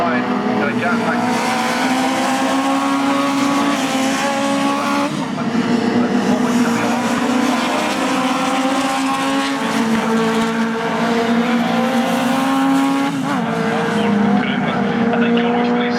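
Legends race cars roar round the hairpin at Knockhill circuit, engines droning loudly and continuously with rising and falling pitch as they pass, under a commentator's voice.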